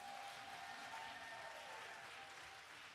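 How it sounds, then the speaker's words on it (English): Applause from a crowd at a women's poetry slam: a continuous, faint-to-moderate wash of clapping, fairly even throughout, with a thin faint tone running beneath it. "Give her another round of applause."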